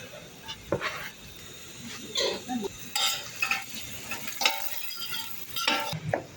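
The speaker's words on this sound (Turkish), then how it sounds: "Makarnamızın soğanları da pişiyor. Biberlerimizi ekliyoruz." Onions and peppers frying in a pan for a pasta dish give off a soft, steady sizzle, broken by several louder bursts of stirring and scraping with utensils against the pot.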